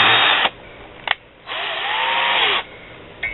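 A power drill bores triple exhaust ports into the cylinder of a Yamaha YT175 Blaster, running in short close bursts separated by brief pauses.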